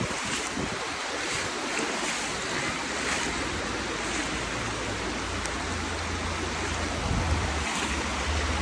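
Floodwater rushes steadily during the DANA flood in Valencia, Spain, a loud, continuous broadband roar mixed with heavy wind buffeting the microphone and a low rumble underneath, with no speech.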